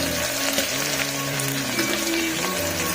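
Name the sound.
onions frying in a pan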